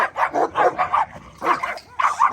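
A dog barks close by in a rapid series of sharp, yappy barks, pausing briefly before a few more.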